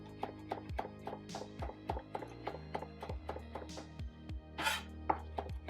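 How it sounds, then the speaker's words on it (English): Sharp knife chopping roughly 8-10 fresh mint leaves on a cutting board, a steady run of crisp, close taps, about two to three per second, with a slight pause partway through. "I'm going to chop up some mint leaves"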